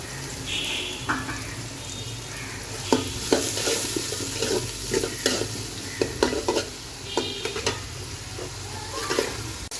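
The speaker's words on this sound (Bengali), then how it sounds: "গরম তেলে দিয়ে দিচ্ছি পেঁয়াজ কুচি" Chopped onions sizzle steadily in hot oil in a pan for fried rice, with repeated scraping and stirring clinks from a spatula over the continuous frying hiss, close and moderately loud, with no talk.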